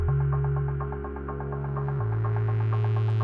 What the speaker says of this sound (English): A bass line is about to enter, and we'll do some tweaking to the cutoff and as well as to the complex oscillator